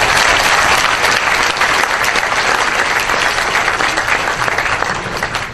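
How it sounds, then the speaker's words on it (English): Audience at a school board of education meeting gives a loud, continuous round of applause, dense clapping holding steady for the whole stretch and easing only slightly at the close. "They deserve a real round of applause."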